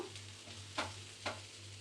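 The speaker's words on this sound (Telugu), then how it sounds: "కొద్దిగా ఇటు సైడు కొద్దిగా ఆయిల్ వేసుకొని కాల్చుకుందాము" Pesarattu, a mung bean dosa, frying in oil on a pan: a quiet steady sizzle with a low hum underneath, broken by two sharp scraping stirs or turns.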